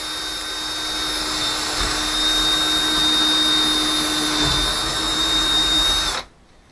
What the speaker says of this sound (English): I'm just drilling a couple of holes to make sure that I can see kind of where my edge boundaries are.